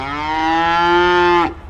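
A cow at a livestock market gives one long, loud, close moo, steady and droning before it drops off sharply at the end, with no talk over it.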